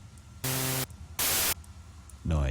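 White noise from a Sytrus synthesizer in FL Studio, sounding as two separate half-second bursts of loud hiss with quiet gaps between, then a third burst starting at the end.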